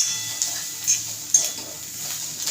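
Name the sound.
stirring roasted masala into karela sabzi in a pan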